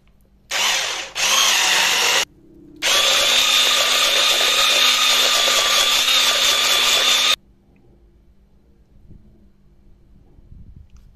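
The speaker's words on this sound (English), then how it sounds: "Easiest way I found is to use my immersion blender with the whisk extension and a tall narrow container." An immersion blender with a whisk extension whips softened butter in a tall narrow container, giving a loud, close motor whir in three bursts, two short and one long, separated by brief pauses before quiet.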